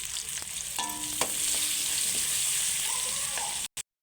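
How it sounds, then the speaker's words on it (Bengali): Chopped onion and green chili fry in hot oil for a poppy-seed fish head dish, making a continuous near sizzle with a few stirring knocks before it cuts off abruptly. "এবার পেঁয়াজ কুচি আর কাঁচা লঙ্কা কুচি দিয়ে দেব। দিয়ে ভালো করে একটু ভেজে নেব।"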